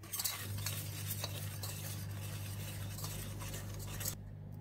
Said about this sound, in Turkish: Güzelce bir çırpacağım ilk önce.